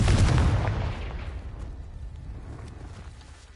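A Confringo fire spell in Hogwarts Legacy bursts in a single loud, deep explosion that rolls and fades over a few seconds, with no talking.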